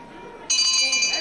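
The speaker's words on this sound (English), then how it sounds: "when the bell interrupted him" A ringing bell marks the end of a wrestling round, a bright sustained clang that cuts in midway over faint crowd and commentary noise.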